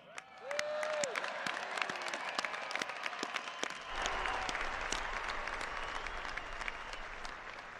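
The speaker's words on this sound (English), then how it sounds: "how about everybody give a huge round of applause to the class of '21." Crowd at a graduation ceremony breaks into sustained applause for the graduating class, dense clapping and some cheering holding steady and loud throughout, with a brief whistle-like tone early on.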